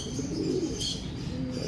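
Racing pigeon cooing steadily at its loft, low soft coos continuing throughout with faint higher chirps and background noise.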